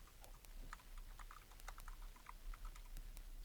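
Close, soft clicking of computer keyboard keys as someone types a number into an online form, with irregular quick taps over a faint background hum.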